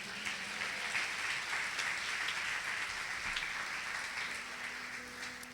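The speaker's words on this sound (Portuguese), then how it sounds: "Você pode aplaudir o nome do Senhor?" Applause in a church congregation, a steady, dense wash of many hands clapping that fills the room and continues unbroken throughout, slightly easing toward the end.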